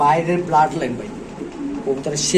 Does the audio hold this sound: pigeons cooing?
yes